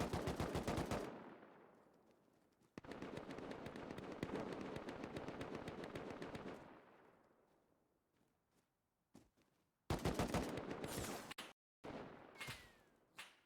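Automatic gunfire in the survival game Rust during a 5v5 tournament match: sustained bursts of rapid shots, a pause, then sharper clustered volleys, loud and close with silent gaps between.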